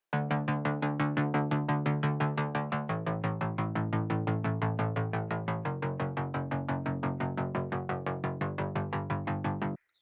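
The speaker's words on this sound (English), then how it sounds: "one of them being this moon bass" An unprocessed moon bass synth in FL Studio pulses in fast, even repeated notes, stepping through a few pitches in a bright, buzzy loop that stops abruptly near the end.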